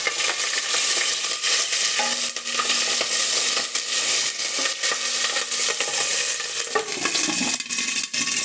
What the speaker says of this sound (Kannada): ಸಿಡಿಯುತ್ತೆ ಅಂತ ಹೇಳಿ ಕ್ಲೋಸ್ ಮಾಡಿದ್ದೀನಿ